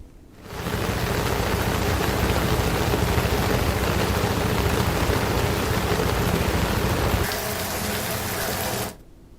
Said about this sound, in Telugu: బషీర్బాగ్, అబిడ్స్, నారాయణగూడ, హిమాయత్ నగర్ పరిసర ప్రాంతాల్లో వర్షం కురుస్తూనే ఉంది.